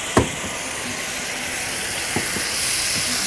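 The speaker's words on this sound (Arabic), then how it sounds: "الطاسه بتبقى سخنه، بينزل ياخد التشويحه المظبوطه كده، وهحط عليه نقطتين ليمون" Shrimp in a hot pan sizzle and hiss in a steady wash, with a few brief sharp spits and pops as lemon drops hit the pan.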